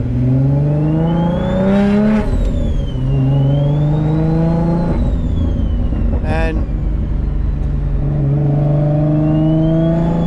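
A 600 wheel-horsepower turbocharged Infiniti G35 coupe engine revs hard and loud, pitch sweeping up and down in repeated pulls, with a sharp pop midway and a voice briefly underneath.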